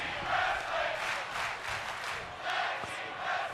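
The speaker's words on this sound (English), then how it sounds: "you guys can hear the crowd. They are going crazy." Wrestling crowd noise from the video game WWE 2K25 surges in a loud, continuous roar of cheering and shouting that swells and dips over a few seconds.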